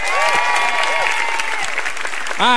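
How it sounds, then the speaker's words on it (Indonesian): An audience applauds a comedian at a stand-up comedy battle show, with steady clapping under music tones and swooping sound effects, and a louder effect near the end. "tepuk tangan Bang Iwel"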